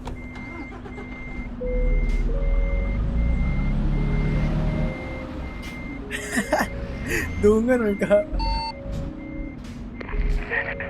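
A truck's reversing alarm beeps in a steady repeating pattern over engine rumble heard from inside a cab, with people talking in another language alongside and other road noise later.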